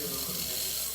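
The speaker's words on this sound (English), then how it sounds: "You see the water dripping down." Water dripping and spattering from the steam wand of a Breville BES820XL espresso machine while it steams, a dense continuous hiss and trickle heard close up.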